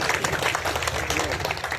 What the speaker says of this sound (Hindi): एक बार दोनों हाथ उठा करके चेतक के तालियां बजा दीजिएगा